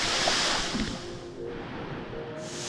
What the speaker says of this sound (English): The water's full twisting and come off the rock there.